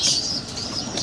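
A brief burst of wing flapping from a pigeon settling nearby, a soft fluttery rustle over faint background noise.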